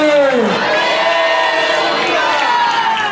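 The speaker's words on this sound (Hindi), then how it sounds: "तालियों के साथ लगा दे जोर से" A church congregation at an Easter service cheers and shouts together loudly and steadily, voices overlapping in a dense, close crowd roar.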